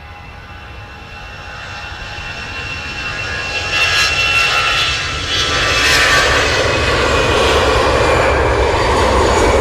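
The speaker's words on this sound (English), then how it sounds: "Antonov AN225 departed Manchester." An Antonov An-225 cargo aircraft departing Manchester Airport, its engine roar building from a distant rumble into a loud, sustained, close drone with no talk over it.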